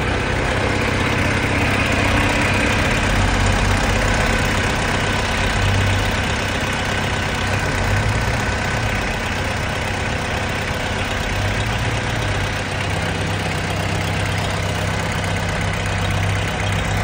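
A Toyota 8FD30 diesel forklift engine idles steadily and close up, a loud, even low rumble with a constant rough texture running throughout with no talking.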